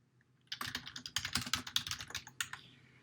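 Rapid tapping on a computer keyboard, a close, fairly quiet burst of keystrokes lasting about two and a half seconds with no talk.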